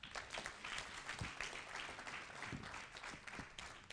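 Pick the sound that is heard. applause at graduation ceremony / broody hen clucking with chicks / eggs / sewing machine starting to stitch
applause at graduation ceremony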